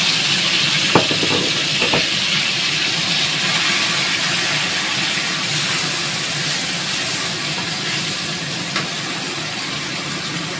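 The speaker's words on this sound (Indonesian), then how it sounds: "Sekarang sambelnya digoreng dulu ya." Chili sambal frying in a pan gives off a steady, dense sizzling hiss that holds evenly for about ten seconds, close and unbroken, with no one talking.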